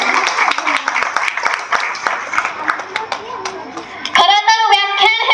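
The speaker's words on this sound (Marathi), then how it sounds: "खरं तर या आयोजन टीमसाठी एकदा जोरदार टाळ्या झाल्याच पाहिजे" An audience at a Dr. Babasaheb Ambedkar Jayanti program claps for the organising team, a dense ongoing patter of applause that stays strong throughout, with a voice singing or chanting over it toward the end.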